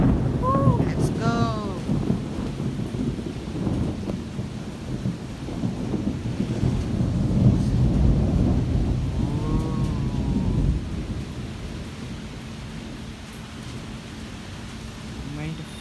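Heavy rain pours steadily while deep thunder rolls and rumbles through a storm, the downpour dense and close with a person speaking intermittently over it.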